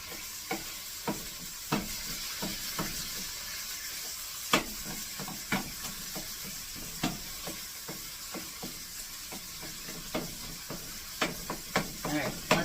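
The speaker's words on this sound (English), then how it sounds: "Let that fry up a minute" Beef for stroganoff fries in a pan with a quiet, continuous sizzle, broken by frequent sharp scrapes and taps as it is moved and stirred.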